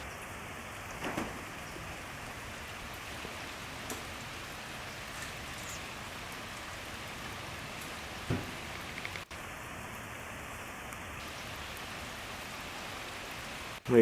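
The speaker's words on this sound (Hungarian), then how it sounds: "Nem bánja, hogy esik az eső rá." Steady rain falls outdoors where a deer stands in the USA, a soft even patter throughout with a few louder drops and no talk.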